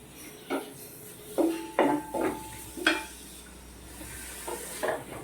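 A spoon scrapes and knocks against a pot as chopped tomatoes are stirred into curry, about half a dozen distinct clinks and scrapes over a soft background sizzle, close and fairly quiet.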